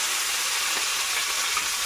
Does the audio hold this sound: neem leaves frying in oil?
yes